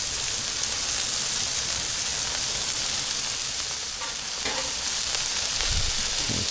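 Burgers and sausages sizzle on a Blackstone griddle in a steady, bright, close hiss and crackle that carries on throughout, with a faint thump near the end and no talking.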